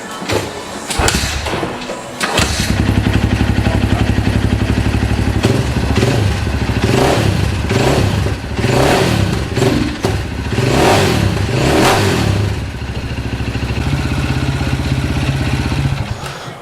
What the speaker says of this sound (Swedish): Låta den gå en stund så att oljan blir varm så att den rinner ut snabbt.